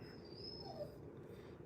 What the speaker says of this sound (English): I don't know if you guys hear that dog whining in the background.